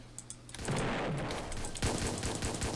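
Rapid automatic gunfire in the Roblox game Red vs Blue Plane Wars, sharp repeated bursts of shots firing in quick succession, loud and close with no talk.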